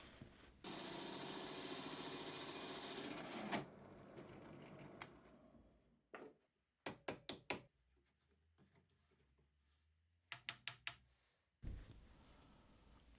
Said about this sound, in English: These washers are made using a drill and a hole saw.